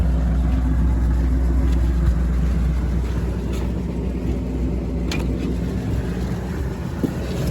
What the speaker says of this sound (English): The old exhaust sounds pretty good. It's coming right out of the tailpipe.